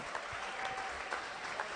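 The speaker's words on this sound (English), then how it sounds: "let's give them all a big round of applause" Brief burst of steady applause from the crowd at the end of an Angus cattle auction, a female sale, moderately distant and even, with no voices over it.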